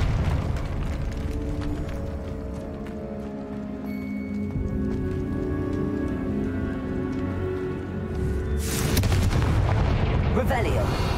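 Confringo fire spells in the Hogwarts Legacy video game set off a continuous, loud rumble of explosive blasts that swells into a heavier burst near the end.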